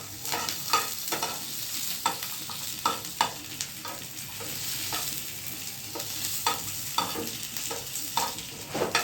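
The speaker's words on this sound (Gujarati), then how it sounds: "લસણ ને મરચાં. એમાં બહુ તેલ નહીં મૂકવાનું, ખાલી ફ્રાય કરવા પડશે." Garlic and green chillies fry in a little oil, a steady close hiss broken by repeated sharp crackles and spoon scrapes as the pan is stirred, with no voices.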